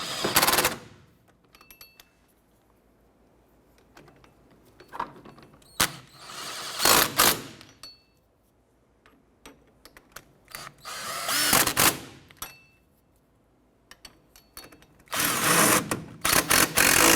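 On a 2006-2013 Chevy Impala, a power tool snugs down the four bolts on the right rear hub assembly in loud, close whirring bursts, each followed by quiet gaps.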